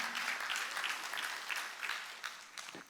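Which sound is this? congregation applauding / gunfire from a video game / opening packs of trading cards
congregation applauding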